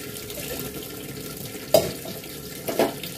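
Homemade butter is washed by hand in chilled water from the fridge and turned over repeatedly, giving low, close water sloshing with two brief louder splashes.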